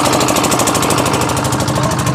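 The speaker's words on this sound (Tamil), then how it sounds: "இன்ஜின் வந்து ஐஸ் வந்து அரைச்சி கொடுக்கும் அரைச்சி மாவாக்கி" An ice-crushing machine's engine grinds block ice into fine flakes for a fishing boat, a loud, steady, rapid pounding drone with a continuous mechanical chatter throughout.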